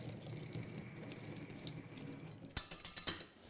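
Whisks are rinsed under a running kitchen tap during mousse making. A steady rush of water splashes continuously, then a few louder clinks and sputters come near the end, close by with no talk.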